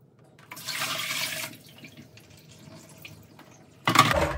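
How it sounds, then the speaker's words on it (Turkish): Combs and brushes are rinsed under running lukewarm water, giving a soft gush of tap water for about a second, a quieter trickle, then a sharper burst of splashing near the end. "Ilık suyla duruluyorum."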